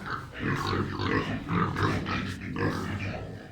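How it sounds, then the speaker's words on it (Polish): A pig grunts and snorts repeatedly up close in a steady series of rough, low grunts, with no talking. "O, świnia."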